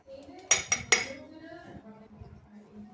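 Roasted poha, flattened rice, is tipped into a bowl of sweetened milk mix with a few sharp clinks of a utensil against the bowl, followed by softer rustling and scraping, close and fairly loud with no talk.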